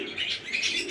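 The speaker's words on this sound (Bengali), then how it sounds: "এক জোড়া সাদা কালার অস্ট্রেলিয়ান ঘুঘু" A pair of white Australian doves makes soft cooing calls mixed with brief wing flutters, close by and fairly clear, with no talking.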